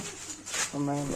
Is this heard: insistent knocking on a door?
no